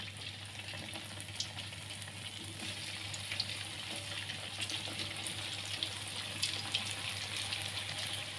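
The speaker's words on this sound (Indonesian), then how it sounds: "Ini saya masih goreng bakso." Meatballs (bakso) frying in oil late at night at a food stall, giving a steady, continuous sizzle and crackle with small pops throughout, close and moderately loud, with no talk.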